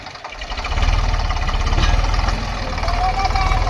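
A tractor engine idles nearby with a steady, low, throbbing rumble, while people talk over it.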